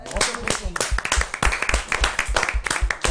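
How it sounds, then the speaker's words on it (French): A small group applauds a charity marathon gaming team, with distinct, fairly close individual hand claps in an uneven rhythm and voices talking over them. "On peut vous applaudir déjà"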